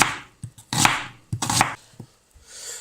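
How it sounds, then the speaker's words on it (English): Onions chopped with a knife on a board in a few uneven bursts of rapid, close chopping strokes separated by short pauses, with no talking. "they're all chopped now anyway, so that's my onions all chopped"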